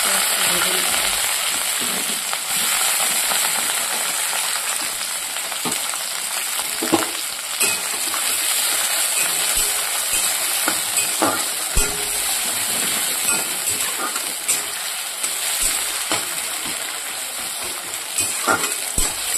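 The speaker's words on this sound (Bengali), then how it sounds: "লাল লাল করে ভেজে নিলাম পেঁয়াজটা" Chopped onions frying in hot oil in a wok, a steady loud sizzle running throughout, with occasional clinks and scrapes of stirring.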